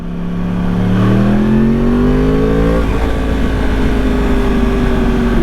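A 2013 Yamaha R1 motorcycle engine under gentle riding, a loud steady hum with tones that climb as it builds speed and then settle after a gear change, with constant wind rush and no talking.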